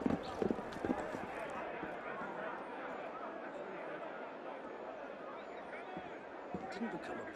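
Horse hooves clip-clopping at a gallop in the game Assassin's Creed Unity, a quiet steady rhythmic beat beneath crowd noise and shouting voices.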